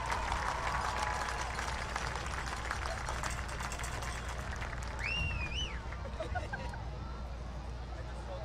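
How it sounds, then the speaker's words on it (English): Spectators at a high school football game applaud for the seniors, a steady wash of distant clapping and crowd noise with voices faintly mixed in throughout. "And how about a round of applause for the seniors of 2026?"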